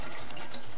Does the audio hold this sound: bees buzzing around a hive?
no